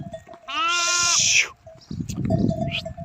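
A loud, close bleat from a sheep or goat, followed by rustling and faint movement; a second fainter animal call is heard near the end.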